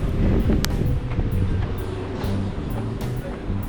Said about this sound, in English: Apologize if there's a little bit of wind noise.